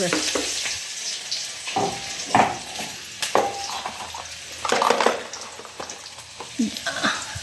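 Cumin and mustard seeds sizzle loudly in hot oil for a Maharashtrian yogurt kadhi, the frying crackle broken by stirring and clinks of a spoon against the pan.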